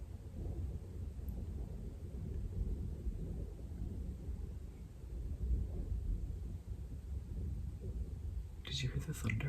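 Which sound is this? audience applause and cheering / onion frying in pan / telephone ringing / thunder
thunder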